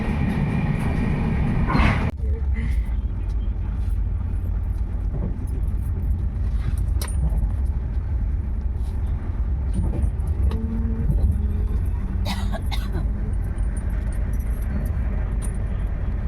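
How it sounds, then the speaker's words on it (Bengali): A train moving slowly towards Bardhaman Junction, heard from inside as a constant low rumble and rolling hum, with a few faint rattles and clinks and no voices. "আর এখন আমাদের ট্রেন ঢুকবে বর্ধমান জংশন"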